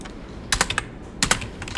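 Close, quiet typing of code on a computer keyboard, two short clusters of crisp key clicks separated by a brief pause.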